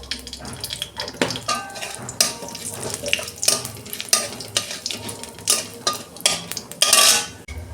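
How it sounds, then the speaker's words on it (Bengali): Dried red chili and five-spice seeds frying in hot oil in a wok, a steady sizzle broken by repeated scraping and stirring clanks of a spatula against the pan, close and busy. "একটা শুকনো লঙ্কা ফোড়নে দিচ্ছি, অল্প 5 ফোড়ন দিচ্ছি"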